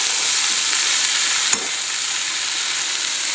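Vegetables with papaya fry in a pan with a steady, close hiss and sizzle, a single soft clink of stirring midway, no voices.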